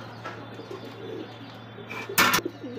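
A male white grizzle pigeon coos in a low, steady murmur close by, with a brief louder burst of flapping or rustle near the end.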